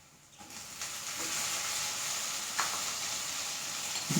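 Chopped tomatoes drop into a pan of frying onions for a curry-leaf chicken, setting off a sharp rising sizzle that holds steady and loud, with a couple of stirring scrapes.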